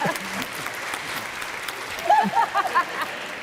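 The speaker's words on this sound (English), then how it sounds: "You can clap for that." An audience at a PaleyFest LA panel applauds in a dense, steady clapping wash that stays at a fairly even level, with a few brief cheers and whoops partway through.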